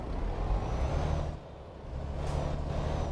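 A heavy truck in Euro Truck Simulator 2 pulls away with a steady low engine drone. The drone dips briefly as if shifting gear, then builds again with a hiss of air, close and alone, with no talk.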